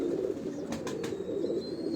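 A favourite pigeon on a Lahore rooftop coos in a low, continuous murmur close at hand. A few brief rustles or flutters break in about halfway through, with no voices.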